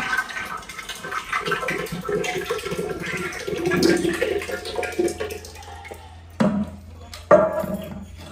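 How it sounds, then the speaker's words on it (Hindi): Curd poured into a butter churn in a home kitchen, a wet sloshing pour running steadily for several seconds, with someone talking over it and a few sharper knocks near the end. "सबसे पहले जी दही इसमें डालेंगे।"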